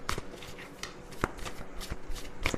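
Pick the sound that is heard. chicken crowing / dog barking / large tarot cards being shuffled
large tarot cards being shuffled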